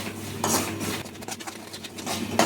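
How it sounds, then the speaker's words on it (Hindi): A spoon stirs semolina and gram flour as they roast in a pan, giving continuous scraping and rubbing sounds with soft clinks against the metal. "इसे इस तरीके से लगातार चलाते हुए भून लीजिए"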